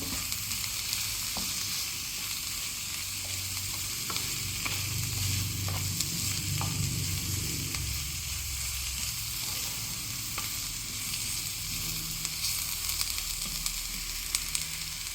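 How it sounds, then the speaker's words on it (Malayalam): Green beans stir-fry in a pan with chili powder, a continuous soft sizzle under intermittent scraping and stirring strokes, with a few sharper clicks from the spatula over a steady low hiss. "മുളക് പൊടി ഇട്ട് കൊടുക്കാം മൊത്തം ഇളക്കിളക്കും"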